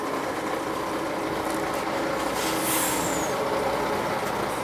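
A freight lorry's air brakes release at a ferry port. A steady, loud truck engine drone is broken by a brief hissing burst of air near the middle.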